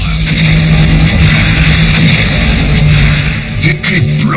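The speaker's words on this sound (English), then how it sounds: "her cannon belched fire into the French flagship" Naval cannon firing from a warship in a sea battle, a dense continuous roar of heavy booming with a steady low drone under it and a few sharper cracks near the end.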